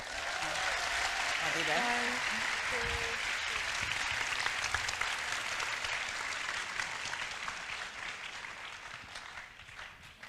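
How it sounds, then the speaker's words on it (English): Sustained audience applause at an HR symposium on sustainability in business, a steady wash of clapping that holds for several seconds and slowly tapers, with a brief remark from a speaker at the start. "Can we give them another round of applause, please?"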